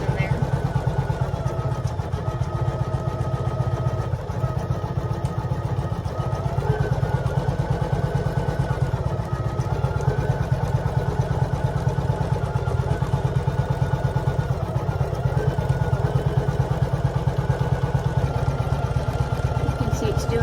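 An embroidery machine stitches a zigzag edge around vinyl letters for a Valentine XOXO design, giving a continuous close mechanical hum with a fast, even clatter throughout, while a person talks over it.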